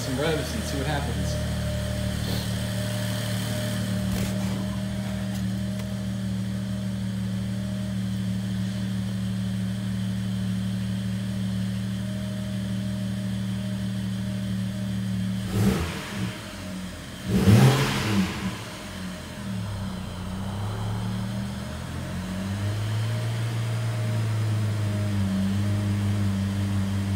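A BMW E90 335i with an N55 engine, fitted with new ignition coils, idles steadily, then is revved in two sharp throttle blips that rise and fall before settling back to idle, with brief talk heard nearby.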